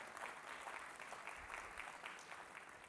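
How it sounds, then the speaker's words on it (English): A crowd at a campus placement event claps, a steady patter of many hands at a moderate distance, fairly soft overall. "Yeah, you can clap louder for that"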